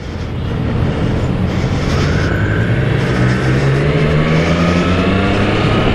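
A Triumph sports motorcycle rides through heavy traffic, its engine revving up and holding a loud, close, rising drone over wind and road noise, with no talking.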